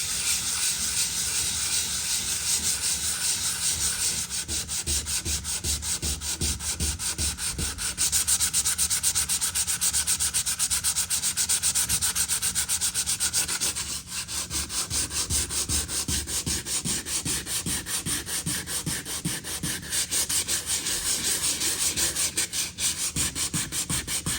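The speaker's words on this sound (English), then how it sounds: "So now that it's dry, I can go ahead and start sanding it." Steady, continuous scraping of sandpaper rubbed by hand back and forth across dried wood, close up and fairly loud, with a brief pause in the strokes partway through.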